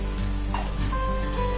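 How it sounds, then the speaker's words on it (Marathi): Grated fresh coconut roasting in ghee in a thick jaggery kadhai over a low gas flame, a soft steady sizzle with faint stirring scrapes, close and continuous with no talking. "स्लो गॅसवरच आपण हे भाजून घेणार आहोत खोबरं"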